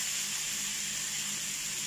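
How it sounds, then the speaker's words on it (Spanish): Chicken sizzling in a pan with bacon fat, a steady, even frying hiss that holds at one level throughout, close and moderately loud with no talking. "ahora procedemos a incorporar el pollo en el sartén con el aceite"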